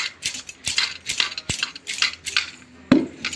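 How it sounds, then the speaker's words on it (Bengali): Metal spoon scraping and clinking against a cooking pan while sugar is stirred to melt, a steady series of close, light scrapes and taps with one sharper knock near the end. "একটু এইভাবে নাড়িয়ে নেব প্রথমেই, তাহলে চিনিগুলো একদম সুন্দরভাবে গলে যাবে"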